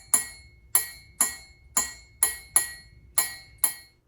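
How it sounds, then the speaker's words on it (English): A smaller metal cup about half full of water is struck eight times in a fairly steady rhythm, each tap a bright, high, ringing clink that fades quickly, close and clear against a quiet background. "And we had a smaller metal cup, and it was filled just about halfway as well"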